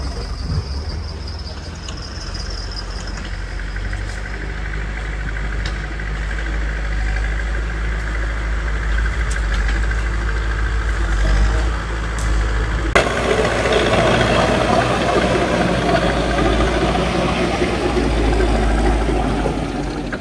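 A tractor engine runs at a roadside construction site where fresh concrete is being laid. It holds a steady, close, low rumbling idle throughout, growing slightly rougher and louder partway through, with no voices.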